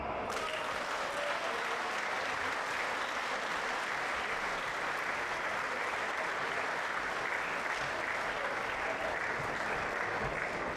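Sustained applause from a large crowd at an outdoor Slovenian People's Party (SLS) rally, steady and dense throughout with no pause, filling the whole stretch at even loudness.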